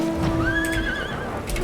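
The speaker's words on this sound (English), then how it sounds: "Ooh, horsey." A horse whinnies once, clear and close, over a steady ambient background in the Final Fantasy XIV Endwalker video game, with soft clip-clop hoof sounds and no talk.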